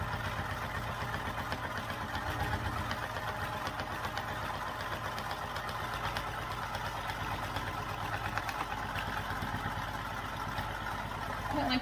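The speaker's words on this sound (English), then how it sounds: "you can sew them back and forth to keep them in place" A sewing machine stitches a strap on a Royal Pixie Keanu backpack, sewing back and forth in a continuous, dense motor whir that stays level and close throughout.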